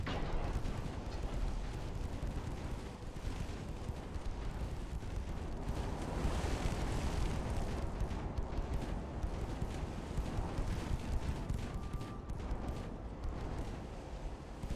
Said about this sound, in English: Fire main guns, please.